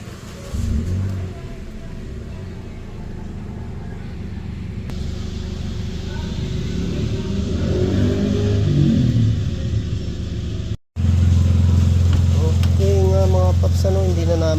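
A car engine is started after a radiator cap replacement during an overheating check. A low idling rumble sets in loud and close near the end, after a stretch of background noise with people talking nearby.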